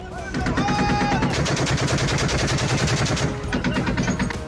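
Rapid automatic gunfire in clashes between Syrian fighters, dense continuous bursts of shots with a few brief pauses, loud and close, with no speech.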